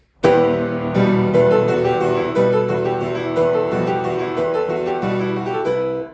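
A piano plays a steady, full passage of an arrangement of a song from Attack on Titan, a low bass line under a brighter melody, loud and close, with no talking.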